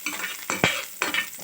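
Onions fry in a pan for a fish curry, with several quick stirring scrapes breaking through a soft, steady sizzle.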